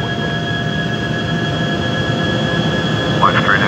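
Airbus A340 jet engines hum on a Flight Simulator X landing at London Heathrow, a steady loud roar with tonal whines, and a brief warbling cockpit sound near the end.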